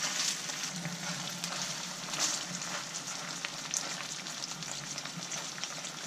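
Bream fillets sizzle and spit steadily in a hot pan, a continuous close, bright frying hiss with occasional louder pops, no talking.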